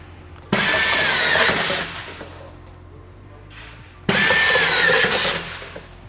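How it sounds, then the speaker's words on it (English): An automatic screwing machine drives screws through window profiles into the metal reinforcement, two loud whirring bursts of a couple of seconds each, close by, separated by a quieter pause. "So this is the screwing machine."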